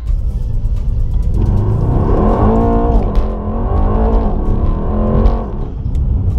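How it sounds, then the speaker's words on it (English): Mercedes E63 launching hard from a standstill to 100 mph, its engine roaring loud and close with rising pitch through several gear shifts, continuous for several seconds with no talking. "retest the E63's 0 to 100 mile an hour launch"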